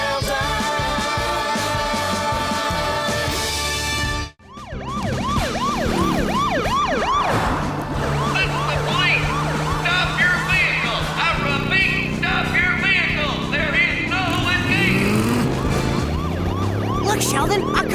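Wailing emergency sirens race through a cartoon car chase, loud and continuous with rising and falling tones over engine noise and music, broken by a brief dropout near the start.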